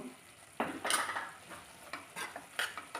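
A spoon stirs garam masala into a cabbage, potato and tomato curry in a pan, making soft scraping and clinking sounds in a few separate strokes, with a faint sizzle underneath.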